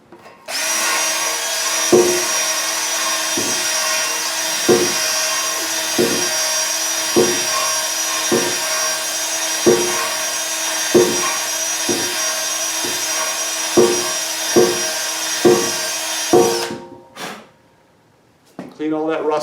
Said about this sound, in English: What I used was my drill and a 1-inch flap wheel sanding wheel.